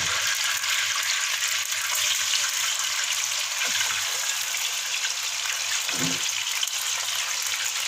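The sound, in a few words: chicken frying in ghee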